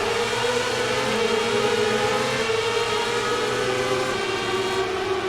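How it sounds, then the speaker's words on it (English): Several high-revving racing motorcycle engines in the video game MotoGP 18 drone together in a dense, continuous buzz, steady and loud, with slight pitch shifts throughout. "Oh, these bikes sound sick."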